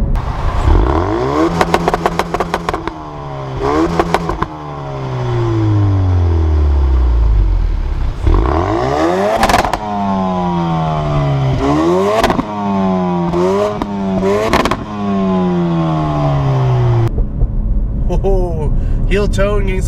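A Ford Focus RS revs hard through repeated pulls, the engine note rising and falling with crackling exhaust pops on lift-off, loud and close, with someone talking over it.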